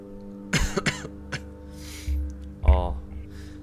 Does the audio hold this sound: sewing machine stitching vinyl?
no